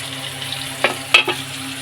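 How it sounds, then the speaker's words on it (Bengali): Potato pieces hit hot oil with bay leaf while chana dal with hing is being cooked. A soft, continuous sizzle is broken by a few sharp clatters of stirring. "তারপরে তেজপাতা দিয়ে দিলাম এবারে আলুটা ছেড়ে দেবো"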